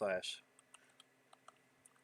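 Light typing on a computer keyboard, with a short burst of quick keystrokes followed by sparse, soft individual clicks, heard right after a voice speaks.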